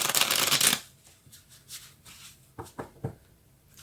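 Tarot cards are riffled in a fast, loud burst of shuffling, followed by softer scattered card taps and handling noises up close.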